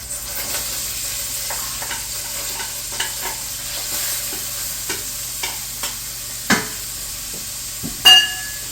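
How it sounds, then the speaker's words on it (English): Melted butter hisses with a soft, steady sizzle as onions cook in the pan, and scattered clinks and scrapes from a utensil stirring the pan cut through. "Okay, my butter's almost melted, and you can hear it sizzle."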